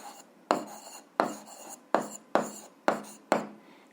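Writing on paper during a physics exercise: about six sharp, rhythmic pen strokes, each starting with a distinct scratch and fading quickly. The strokes are close and fairly quiet, with no voice.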